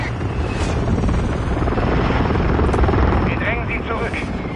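A steady, loud rotor drone of an aircraft flying overhead in a Call of Duty match, continuous and close, with voices speaking over it.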